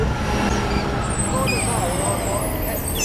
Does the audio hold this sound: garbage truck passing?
yes